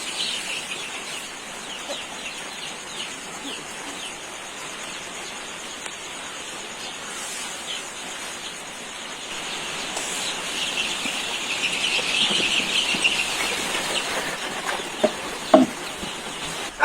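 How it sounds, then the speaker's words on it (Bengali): Chickens on a farm cluck through a steady morning feeding, a dense busy hiss of birds close by that grows livelier toward the end, with a few sharper calls near the finish. "এখন আমি মুরগিগুলোকে খাবার দেবো"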